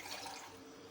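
Water pours in a steady, soft rush into a cooking pot on a stove for boiling rice, brief and fairly faint, with no talking.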